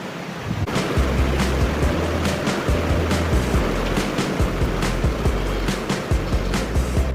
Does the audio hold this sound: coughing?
no